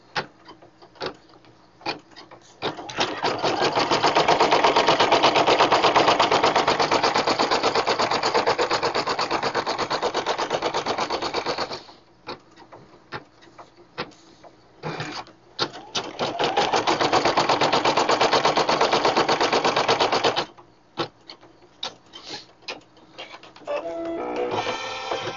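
A Brother PE770/800 embroidery machine stitches a Christmas in-the-hoop banner, its steady rapid needle chatter running close and loud in two long bursts separated by pauses with light handling noises.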